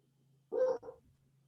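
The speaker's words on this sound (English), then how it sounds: "my dog is barking like crazy" A dog gives a quick pair of barks at a front-door delivery, a louder first bark and a shorter second one, muffled and slightly distant in an otherwise quiet room with a faint steady hum.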